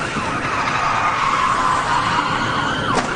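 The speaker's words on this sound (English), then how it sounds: "This spin-out was unavoidable once the top-heavy van clipped that car." A top-heavy van spins out during a police chase, with a long, loud tire squeal that slides in pitch over steady road and engine roar, ending in a sharp swoop, no talking.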